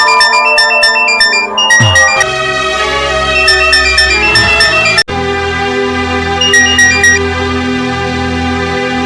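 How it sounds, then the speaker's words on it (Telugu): A phone ringtone plays loudly and close, a melodic electronic tune of repeating tones that shifts pattern midway after a brief cut, continuing steadily without speech. "సాగర్కి ఫోన్ చేయండి."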